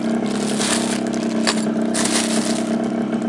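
A Honda Dio scooter engine fitted with a racing rotor idles steadily nearby, a continuous buzzing drone with even loudness and no talk.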